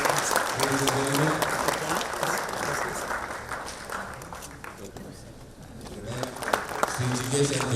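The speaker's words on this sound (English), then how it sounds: "Let's have a round of applause for our speaker, ladies and gentlemen." An audience at a plastics show inauguration in Bangalore claps for a speaker being escorted onto the dais, a moderate spread of applause mixed with talking voices and shuffling, dipping midway then rising again.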